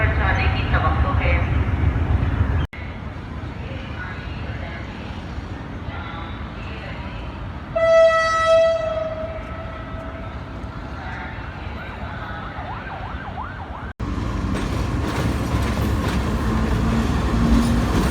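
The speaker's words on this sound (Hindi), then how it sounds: "अभी ये जो रावलपिंडी से एक ट्रेन आई है" A train from Rawalpindi pulls into Karachi Cantt station, its rumble filling the platform while a horn sounds once in the middle and people talk nearby.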